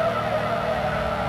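A car engine runs in a lowered-car driving game after a Chevrolet Cruze is started, producing a steady low hum with a whiny overtone that stays even for the short moment, no talk over it.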